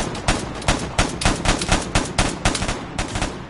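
Automatic gunfire in the online shooter game Vigor, a rapid run of loud, close shots in uneven bursts with brief gaps, roughly a dozen cracks over a few seconds.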